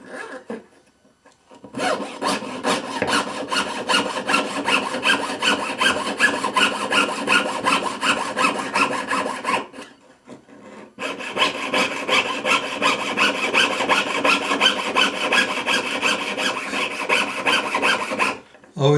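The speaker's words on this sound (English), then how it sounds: "now you're ready to saw on the inside" A fine-toothed jeweller's saw cutting metal with fast, even back-and-forth strokes, two long runs separated by a brief pause, close and steady.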